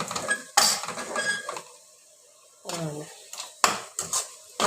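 Rice being stirred into a pan for egg fried rice, with several distinct bursts of metal spoon scraping and clinking against the pan separated by quiet pauses, close up.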